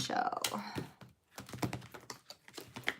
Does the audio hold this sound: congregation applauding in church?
no